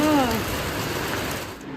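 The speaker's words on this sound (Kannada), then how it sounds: "ಮಳೆ ನೋಡಿ ಆನಂದಿಸಿ" Rain falling in a village, a steady dense hiss of drops holding at even loudness, with a brief tonal voice-like sound at the very start.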